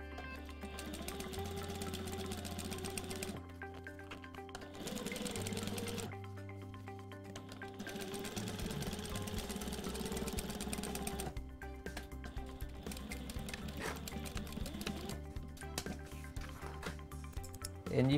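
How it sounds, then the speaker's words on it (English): A Sailrite Fabricator walking foot sewing machine runs a single reinforced seam in fabric, its steady mechanical stitching whirr going on and off over about eighteen seconds, fairly quiet with background music beneath it. "I'm just sewing a single reinforced seam right here just to test out to see how easy it is to sew nice straight lines"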